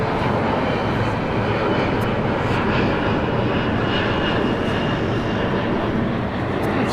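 An Alaska Airlines jet bound for San Jose takes off steeply from LAX, its engines roaring as a loud, steady, broadband rumble that continues without a break.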